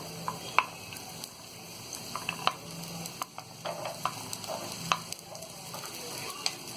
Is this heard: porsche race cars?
no